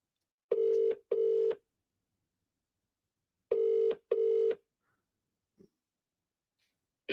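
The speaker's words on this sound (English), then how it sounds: "Can you guys hear the phone?" Telephone ringback tone on an outgoing phone call, a clear repeated double ring: two short bursts, a pause, then two more, with a faint breath afterward and no talk.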